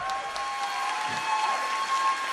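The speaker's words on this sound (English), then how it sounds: "a round of applause for both of these athletes" A crowd at an MMA championship applauds the fighters with steady, moderately loud clapping over a constant tonal hum, with no clear talk.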